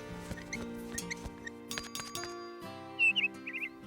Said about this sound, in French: J'adore t'entendre gazouiller.